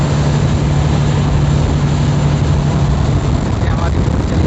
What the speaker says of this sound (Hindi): ये हमारी बोट चल रही है।